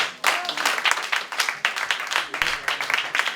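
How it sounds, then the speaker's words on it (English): Audience applause at a gathering in an African house welcoming an ambassador, a steady burst of many hands clapping close by, dense and continuous with uneven peaks throughout. "Once again, big round of applause"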